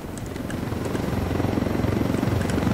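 A helicopter in Ghost Recon Wildlands, a steady rotor thump with rhythmic pulsing that grows slightly louder and closer, heard alone without talk.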